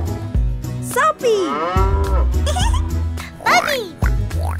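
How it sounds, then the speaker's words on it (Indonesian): A cow moos several times over a cheerful children's cartoon song, the drawn-out lowing calls loud and up front against the music and singing. "Sapi."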